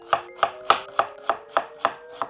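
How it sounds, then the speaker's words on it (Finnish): A freshly sharpened kitchen knife chops a very large onion on a cutting board in eight steady, evenly spaced crisp knocks, close and clear with no talking. "Tää on kyllä tämmönen aikamoisen mega sipuli, mutta pistetään se puoliksi."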